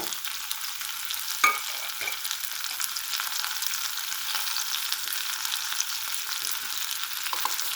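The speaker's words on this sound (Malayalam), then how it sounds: "ഇനി നമുക്ക് വറ്റൽമുളക് ഇട്ട് കൊടുക്കാം." Dried red chillies and curry leaves fry in oil with cumin and fennel seeds for egg curry. A steady close hiss runs throughout, with one sharp pop early on and no voices.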